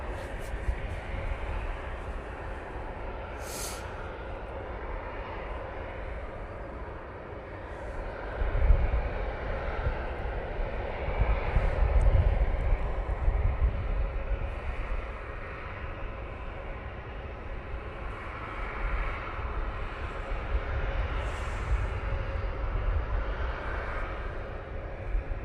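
An EasyJet airliner arriving from Belfast at Manchester Airport makes a distant, low jet rumble that rises and falls over the stretch, with faint background noise and a few brief high chirps.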